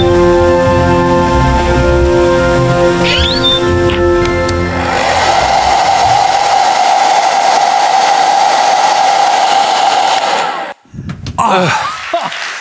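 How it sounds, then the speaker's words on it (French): A hair dryer blows in a studio during a children's science show, a loud, steady whooshing rush lasting about five seconds after a musical passage, then cutting off abruptly before brief noises. "Heureusement que j'ai trouvé un sèche-cheveux."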